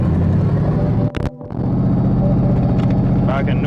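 A Ford 5.0 V8 swapped into a vehicle idles in gear with a loud, steady low rumble, briefly dipping during a shift, with someone talking over it.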